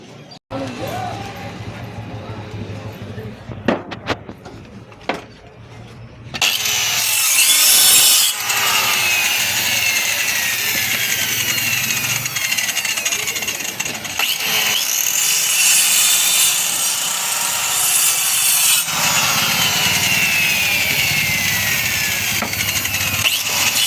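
A handsaw cuts through wood for a bed headboard, starting as a steady, loud rasping stroke after a quieter stretch and carrying on without a break to the end, with voices at times.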